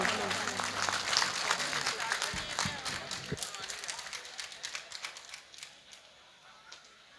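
At a mushaira in Banaras, an audience claps, with dense applause that is strongest at the start and gradually thins into scattered claps before fading out.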